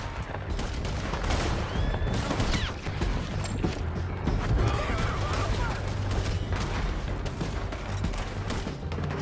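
Gunfire rattles through a Red Dead Redemption shootout, a dense, continuous fusillade of shots and bursts at steady loudness across the whole stretch, with voices shouting in between.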